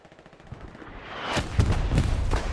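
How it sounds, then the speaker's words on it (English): Artillery fire in the video game Hell Let Loose: a quiet build-up, then a rapid cluster of loud booming blasts and cracks from about the midpoint onward, dense and overlapping. "I think he's just waiting for his friendly artillery to stop firing"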